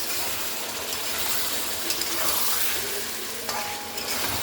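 Mutton stir-fried kosha-style with potatoes in a pan gives off a steady, dense sizzle and frying crackle throughout, with continual stirring scrapes close up and no voices.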